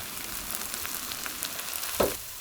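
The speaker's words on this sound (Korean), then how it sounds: "양파의 물기가 딱 졸여질 때까지 볶아주세요." New-season onions stir-frying in a pan, a steady soft sizzle with scattered crackles and one brief louder clink or scrape near the end, no voices.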